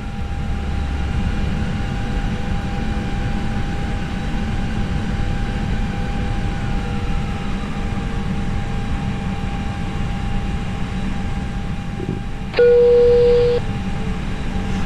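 An Airbus airliner taxis in the FSX flight simulator with a steady, even engine drone and hum that carries throughout, and a brief electronic tone sounds near the end.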